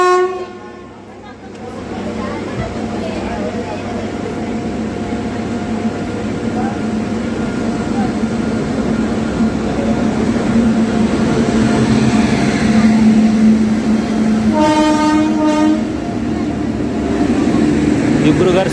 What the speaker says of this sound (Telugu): BAG 9 HC లోకోమోటివ్ అయితే వస్తుంది.